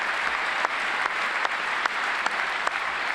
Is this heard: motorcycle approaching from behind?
no